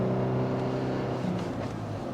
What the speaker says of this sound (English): you can hear this engine like really whining